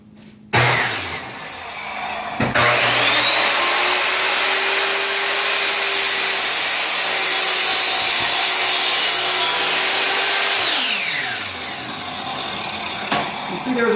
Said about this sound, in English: You see there was a bit of vibration in the saw as I was cutting